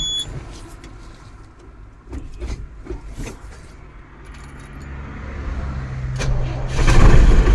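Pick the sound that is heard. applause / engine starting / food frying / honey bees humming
engine starting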